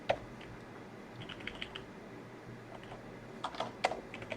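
Someone types JavaScript inside C# code on a computer keyboard, soft scattered key clicks in irregular short bursts, fairly quiet and close, with no talk.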